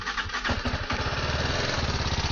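A TVS Apache RR 310 motorcycle engine cranks and catches, then settles into a rapid, throbbing idle, close and fairly loud.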